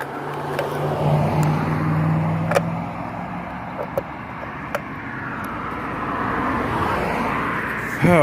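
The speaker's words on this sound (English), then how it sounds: "wait for all this traffic" Road traffic near a residential roadside geocache, with cars passing by in a continuous low rushing roar that swells and fades, a few sharp clicks and knocks on top, and no speech.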